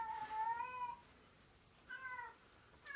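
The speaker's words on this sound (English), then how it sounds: "There's my cat in the background." A pet cat meows twice, a longer drawn-out call followed by a shorter one after a pause, faint and somewhat distant against a quiet room.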